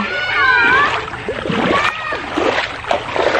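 Children splashing while bathing in a river, with choppy water splashes under excited young voices and chatter close by.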